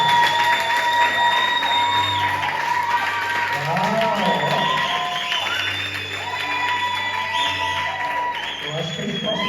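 A church congregation claps for the couples-ministry leader pastors at a service in Madrid, a broad sustained wash of applause with scattered cheers and whoops, steady and close throughout.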